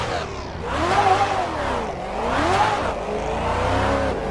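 Maserati GranTurismo MC GT4 racing car engine in Assetto Corsa, revving up and down in two rising and falling sweeps, loud and close with no talk.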